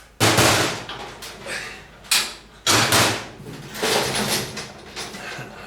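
Metal clamps come off a freshly riveted steel fabrication workbench frame: a handful of loud, close clanks and knocks arrive in uneven bursts with rattling metal between them.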